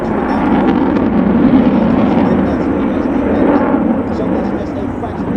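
A Lockheed Martin F-22 Raptor fighter jet makes a high-speed pass at a 2017 Northeastern Pennsylvania airshow, its broad, loud roar swelling and fading while an announcer talks over it.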